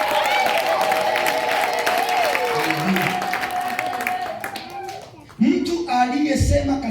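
A church congregation at a Sunday service claps and cheers for the Lord in a dense, steady wash of applause that swells sharply near the end, with sustained music and voices running beneath it.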